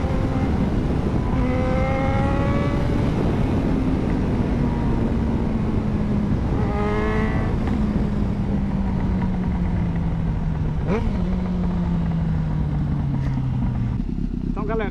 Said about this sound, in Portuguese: A XJ que eu acabei de mostrar pra vocês, dando uma esticada